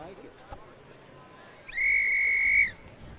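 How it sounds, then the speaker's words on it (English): A starter's whistle at a track and field championship meet sounds one clear, sustained blast of about a second over low background murmur. "You can hear the starter's whistle just be blowing"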